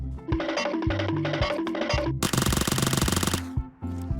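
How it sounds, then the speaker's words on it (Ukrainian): Rapid bursts of automatic gunfire in PUBG Mobile Metro Royale, loud and dense, with a thudding mechanical rhythm and no talking. "О, в мене піді мною стріляють. Чуєш?"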